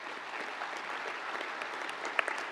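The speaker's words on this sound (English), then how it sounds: "please join me in applauding our graduates for their achievements." Audience applause fills a university of London presentation ceremony for graduates, a dense, steady wash of clapping from a large crowd that carries evenly throughout without voices.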